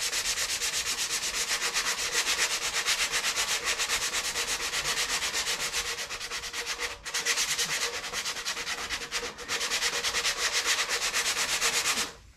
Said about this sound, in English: so I saved it for this hand sanding stuff